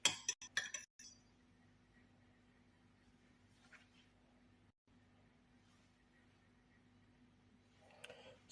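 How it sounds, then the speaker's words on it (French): A spoon clinks against a glass several times in quick succession while a ginger, clove, turmeric and honey remedy is stirred, followed by a long quiet stretch and a faint clink near the end. "Je mélange."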